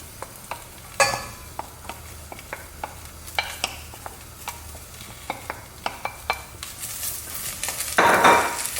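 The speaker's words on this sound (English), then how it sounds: "Warm up that oil so all the flavors of the ghee can start popping out. And we're going to add our vegetables into it." Vegetables tipped into a pan of hot ghee and stirred, giving a rising sizzle with repeated close scrapes and clinks of a spoon against the pan, the frying hiss growing louder near the end.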